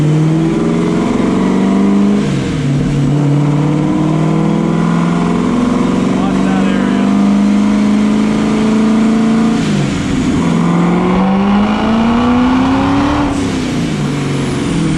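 A loud engine in a 1,000-plus horsepower car revs continuously on a dyno's rollers, its pitch rising and falling in long sweeps, with a brief spoken remark over the roar.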